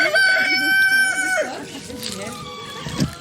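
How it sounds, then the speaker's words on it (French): A rooster crows loudly on a New England farm in Massachusetts, a long sustained cock-a-doodle-doo followed by softer clucking from hens nearby, with people talking over it. "On a les poules."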